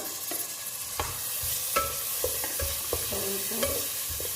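Finely chopped carrots sauté in a pan with a soft continuous sizzle, broken by several distinct scraping stirs and knocks of the spatula, close and fairly quiet with no talking.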